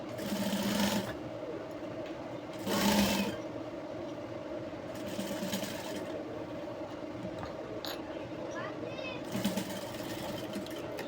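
A steady sewing machine stitches a jumpsuit throughout, with brief louder bursts of running, under intermittent Hindi speech and light handling noises.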